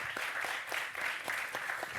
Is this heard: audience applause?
yes